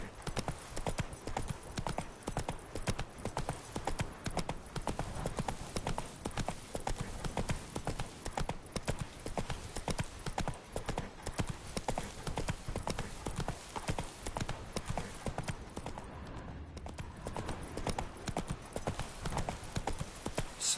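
Horse hooves clip-clop in a steady, brisk rhythm as a rider travels in The Witcher 3 on PS5, close and continuous for about twenty seconds, with faint game ambience.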